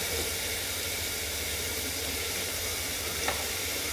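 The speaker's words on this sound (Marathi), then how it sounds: "आता बघा आपण फ्लावर घालून घेऊया।" Cauliflower florets tossed into a sizzling pan while making pav bhaji, a steady broad hiss of frying with a faint clink near the end, close and even, with no one talking.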